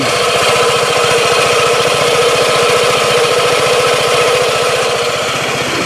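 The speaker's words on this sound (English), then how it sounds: "I have the engine running so that you can hear the belt noise already again." A Vespa Sei Giorni scooter engine runs close and loud with a steady rapid pulsing chug and a whirring drive-belt noise from a stressed belt, constant throughout with no voices.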